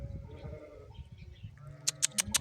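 Soft low rustling and shuffling give way to a quick run of four bright, sharp sheep bleats in a pen, fairly close and evenly spaced.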